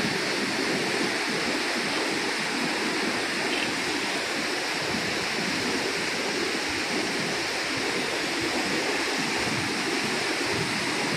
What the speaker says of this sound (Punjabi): ਉੱਥੋਂ ਪਾਣੀ ਦੇਖੋ ਕਿਸ ਤਰ੍ਹਾਂ ਸਪੀਡ 'ਤੇ ਆ ਰਿਹਾ।